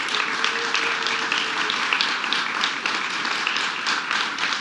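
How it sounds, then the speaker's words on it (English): An audience applauds New York Governor Kathy Hochul at a climate change bill signing: a steady, dense wash of clapping that stays even and fairly loud throughout, with no one speaking over it. "let's give a big round of applause to our governor"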